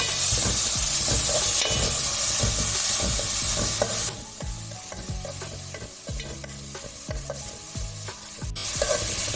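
Curry leaves and tomato sautéing for egg curry, a loud dense sizzle with repeated rhythmic scraping strokes of a spoon in the pan, close and continuous.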